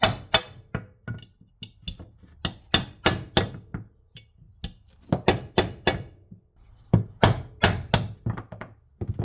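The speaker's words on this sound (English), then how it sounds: "we could just use that to hammer on this to tap in the new seal" Close, sharp wooden knocks in irregular bursts, some in quick pairs and runs, as a new rear main engine seal on a Chevy/GMC truck is tapped in with a block of wood.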